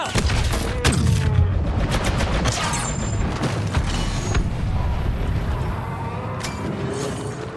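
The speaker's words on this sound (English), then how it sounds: "Grenade is out." Gunfire and a grenade blast in Star Wars Battlefront 2 multiplayer on Maz's Castle, a rapid run of sharp shots and thumps with a heavy boom, loud and close, the clatter then settling into a rumbling tail.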